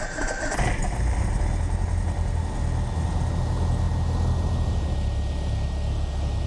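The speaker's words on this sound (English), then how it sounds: "That's, I think, a good engine start." A light aircraft's piston engine starts in the Prepar3d flight simulator, a brief whine at the start giving way to a loud, steady, droning idle that runs without pause.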